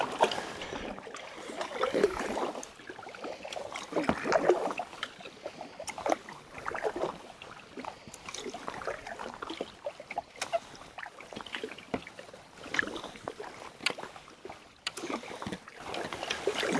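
A kayak paddled down the Petawawa River, with steady, rhythmic paddle strokes splashing and dripping close by and a continuous wash of moving water; no voices.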